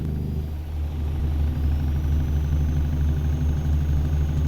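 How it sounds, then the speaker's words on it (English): A Peterbilt 386 truck's diesel engine lugs uphill in American Truck Simulator, a steady, heavy low rumble that drones evenly throughout, close and loud, with no voices. "With this engine too, it's like it wants another gear, and I don't have it"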